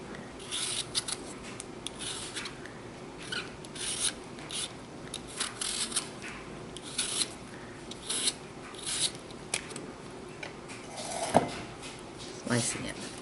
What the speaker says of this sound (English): Same with this one, peeling it.